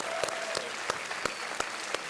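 Studio audience applause on a Hindi quiz show, a steady dense clapping wash with sharper individual claps standing out, continuous throughout with no voices.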